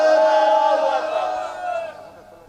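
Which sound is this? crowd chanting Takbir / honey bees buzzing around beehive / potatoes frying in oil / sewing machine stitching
crowd chanting Takbir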